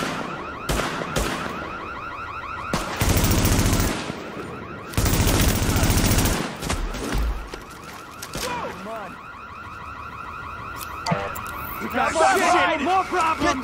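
Gunfire in Tom Clancy's The Division, loud close bursts of automatic fire in long stretches mixed with a wailing alarm-like tone, shouted voices breaking in between volleys.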